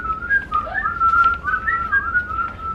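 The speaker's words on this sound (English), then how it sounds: "whistling to himself" A person whistles a wandering, tuneful melody close by and clearly, with short gliding notes and brief pauses and no speech.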